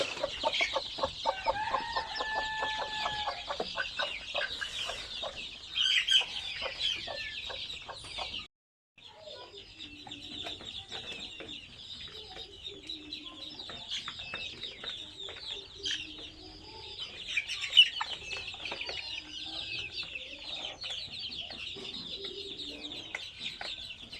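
Farm chickens and ducks cluck and chatter continuously while being fed, a busy overlapping flock close by with a brief pause partway through.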